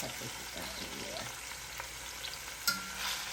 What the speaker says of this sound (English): Hear the sizzle, right?